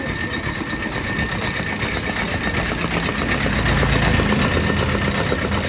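Scooter engine idling at a roadside stop, a steady close mechanical hum with an even vibrating rhythm throughout.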